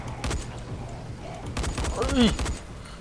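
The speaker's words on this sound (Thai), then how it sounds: "ปืนมันไม่รัวว่ะ ปืนไม่รัวพอ" Rapid bursts of gunfire from a first-person zombie game at night, a few quick volleys of shots mixed with other combat noise and someone talking excitedly over it.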